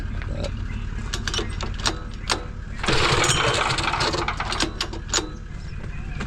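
A Land Cruiser engine being cranked during repairs in a workshop, repeated sharp mechanical clicks and whirring bursts, with a louder churning stretch midway as it tries to catch, close and fairly loud, with no voices.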